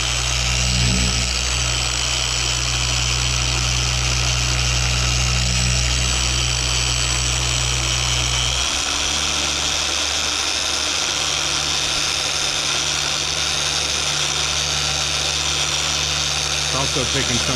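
A machine polisher paint-correcting a truck bed cap on a Sierra Stepside, a steady close motor whine running throughout, its low hum shifting partway through as the load changes.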